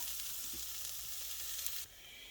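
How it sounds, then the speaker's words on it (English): Onions sizzle and fry in a pan for burrito filling, a steady bright hiss close up with a brief stir, then the sizzle drops off abruptly. "So I'm going to go ahead and let these onions cook up a little bit."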